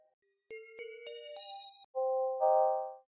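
SunVox synthesizer preset with reverb: notes ring out one after another, then sustained chords swell, each tone trailing a soft reverb tail; clean and fairly close, no voices.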